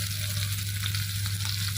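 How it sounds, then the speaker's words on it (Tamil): Mustard seeds spluttering in hot oil, with coconut oil mentioned, at the start of a Kerala chickpea curry, give a steady close sizzle and crackle with a constant low hum underneath and no talk. "கடுகு நல்லா பொரியட்டும்."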